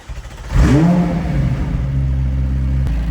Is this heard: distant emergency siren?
no